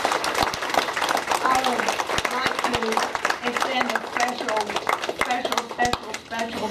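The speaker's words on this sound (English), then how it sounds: "So I invite you to stand and let's applaud Andy." Standing applause from mourners at a celebration-of-life memorial, sharp individual claps scattered through a steady patter, with voices talking and calling out over it throughout.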